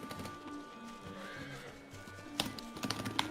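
Horse whinnies and clip-clopping hooves from a mount in the game Final Fantasy XIV, with soft background music underneath; a few sharper hoof taps land near the end.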